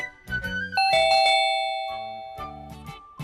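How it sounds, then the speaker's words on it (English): A doorbell chimes twice in a ding-dong pattern, bright tones ringing out and fading, with low thumping sounds before and after. "And a policeman rang Henry's bell"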